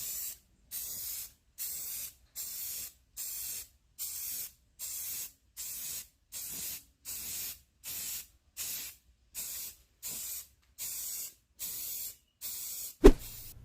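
Rust-Oleum Ultra Matte spray paint in Sand Dollar hisses out in about a dozen short, evenly spaced bursts, close and crisp, each lasting under a second with silence between, ending on a sharp click.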